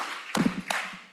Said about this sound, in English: Clap 3 times if you can hear me.